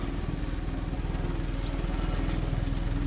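Construction machine compacting ground in the Bau Simulator 2022 video game, a steady, loud, low engine drone with a fast rhythmic thumping pulse running continuously throughout.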